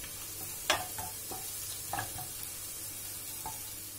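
A spoon scrapes and clinks in a pot of soup with added spices and garlic. The few soft stirring knocks sound faint and close over a low simmering hiss, with no talking.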